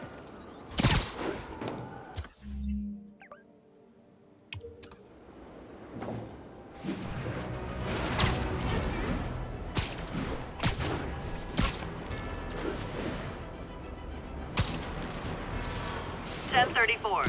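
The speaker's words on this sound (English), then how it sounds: "Demons have opened fire." Heavy gunfire from Demons in Marvel's Spider-Man booms and crackles in scattered loud bursts and volleys, with a quieter gap early on, blending with a chaotic mix of noises and a talking voice.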